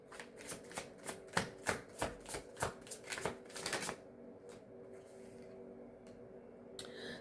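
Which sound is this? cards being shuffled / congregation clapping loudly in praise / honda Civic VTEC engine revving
cards being shuffled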